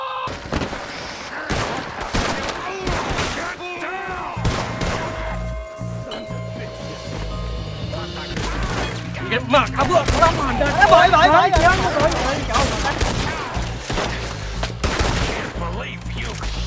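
Red Dead Redemption 2 gunfight with a rapid fusillade of gunshots and impacts through most of the stretch, loud and close, mixed with game music and shouting voices.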